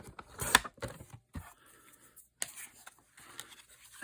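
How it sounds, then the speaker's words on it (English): Scissors snip the end off a piece of paper for an art journal, a few short close crisp cuts and paper rustles, quiet and without talk. "I think I'm gonna cut this end off"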